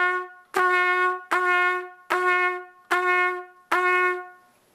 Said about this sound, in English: What you do want is a nice gradual end to the note.